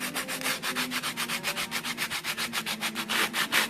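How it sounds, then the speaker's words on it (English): Sandpaper rubs back and forth over a dollhouse wood piece in quick, even strokes, a close, steady scratchy rasp repeating about six times a second. "we're going to use some sandpaper, and we're going to finish sanding this piece"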